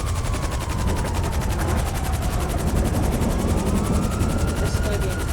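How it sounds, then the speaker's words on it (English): A helicopter in Grand Theft Auto V drones with rapid, steady rotor chop and a wavering engine whine, loud and continuous under dense game noise. "How do I park a helicopter?"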